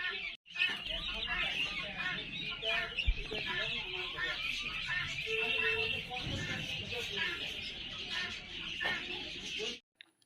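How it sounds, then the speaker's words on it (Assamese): A dense, constant chatter of many small birds and some clucking fowl fills an indoor bird shop, with someone talking over the din. "এয়া বহুতবিলাক চৰাই আছে ইয়াতে"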